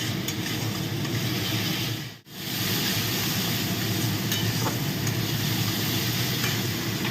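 Spice paste for chitol fish muitha sizzles and is stirred in hot oil, a loud, steady frying hiss with scraping that cuts out briefly partway through.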